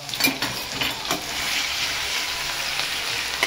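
Crushed ginger and garlic frying in a hot pan with curry leaves, a steady close sizzle and crackle with a few sharp pops, continuing alone without talk.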